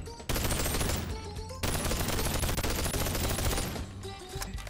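Rapid automatic gunfire from an aimbot-assisted gun in the VR shooter BONELAB, loud and close, firing in two sustained bursts with a brief pause between them and no talking.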